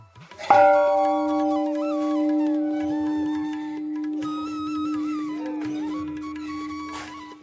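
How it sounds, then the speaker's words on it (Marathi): A large bell at the Shree Bhargavram temple in Rajapur, Ratnagiri, struck once, loud and close, then rings on in a long, steady metallic hum with shimmering overtones that fade slowly. "मंदिराच्या इथे या साईडला मोठी घंटा आहे दाखवतो तुम्हाला आता"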